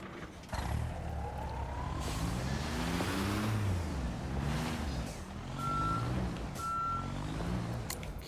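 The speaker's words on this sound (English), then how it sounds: "now I think I'm going to need to start moving the dump truck" Reversing beeps from a dump truck in the Construction Simulator video game, runway work at an airport site, sounding as a steady repeated tone over continuous engine rumble and vehicle noise throughout.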